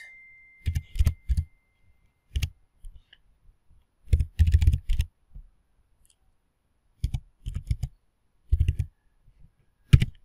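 A website address typed on a computer keyboard, bursts of quick, close, clacking keystrokes separated by short silent pauses, with no voices.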